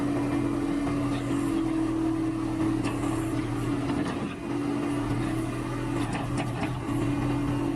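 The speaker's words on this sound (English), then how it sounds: "The T190 wood splitter rumbles steadily across the cluttered log yard, its tracks grinding over compacted soil and scattered sawdust" A T190 tracked wood splitter crosses a cluttered log yard of compacted soil and scattered sawdust, its engine a close, continuous low rumble with a steady droning hum and faint rattling throughout.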